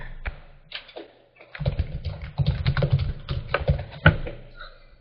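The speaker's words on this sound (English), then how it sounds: "Let's just type something in here." Computer keyboard typing in short uneven bursts, close and clear, with a few separate key taps and brief pauses.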